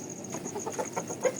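A chicken in a pen clucks in a short run of soft, quick clucks. The calls are faint and close, with a brief louder note near the end and no talking.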